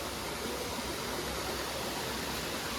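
A mountain stream tumbles down Girnar in the rain, a steady, dense rush of water filling the air without pause, close and even throughout.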